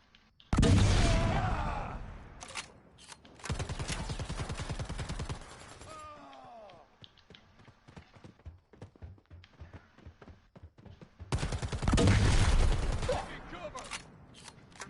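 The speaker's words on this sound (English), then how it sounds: "I'm just hitting the grenade launchers every time they come up the stairs." Grenade launcher fire in the video game Predator: Hunting Grounds: loud, dense bursts of explosive gunfire in three separate volleys, with quieter combat noise between them.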